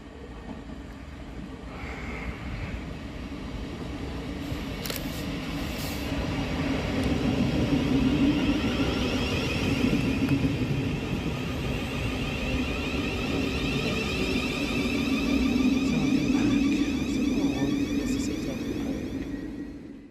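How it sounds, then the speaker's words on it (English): Class 700 Govia Thameslink unit 700 128 passes through Preston Park station on the Brighton Main Line with a steady rumbling whir that swells, holds and eases off. No voices are heard. "here's 700 128, working the 1738 Govia Thameslink service from Bedford to Brighton"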